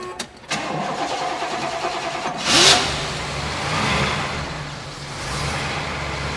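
A 1969 Hurst/Olds engine, not started for about a week, cranks and catches, then revs up and settles into a steady rumbling idle, close and loud with no talking.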